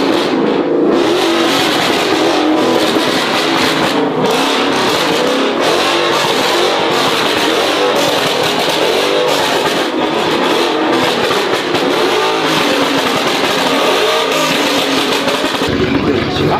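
Chrysler 300 Scat Pack engine roars loudly and continuously, revving hard with a dense, rumbling tone that stays heavy throughout and then drops off near the end.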